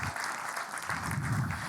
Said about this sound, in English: A big applause for Thomas.